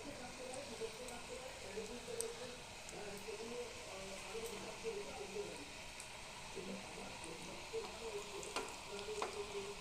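Sweet potato jalebi frying in hot oil: a faint, continuous bubbling sizzle with light crackles, steady and close throughout, quiet overall.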